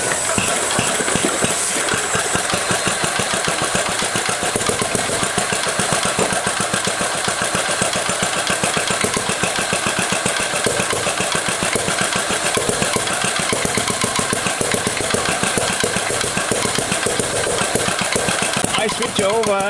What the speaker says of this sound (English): Then I switch on inject, which means the engine rotates, ignites and